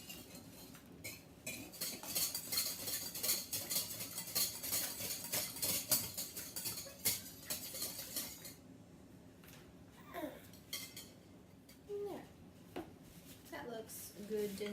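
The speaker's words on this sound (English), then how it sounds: "We'll whisk the eggs until they're thoroughly combined." Eggs whisked in a bowl make a fast, steady metal-on-bowl clinking and scraping that runs for several seconds, then turns into sparser clinks and taps with brief pauses.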